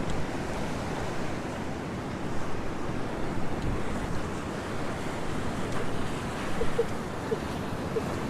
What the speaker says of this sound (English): I want to get those waves cascading over the rocks.